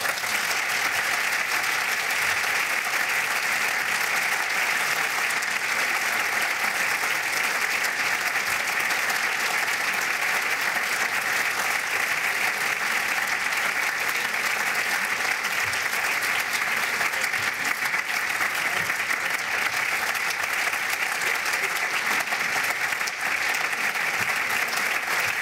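Sustained, steady applause from a large audience at a political symposium, a loud even wash of clapping that holds for the full length without breaks.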